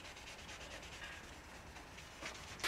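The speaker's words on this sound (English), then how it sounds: "I'll just go ahead and sand it until I see that it's the same level of, I guess, shininess or sanded as the rest of the headlight lens" Steady rubbing hiss of a 3M restoration kit sanding pad worked over a plastic headlight lens on a Nissan 350Z, continuous and close, with soft back-and-forth swells.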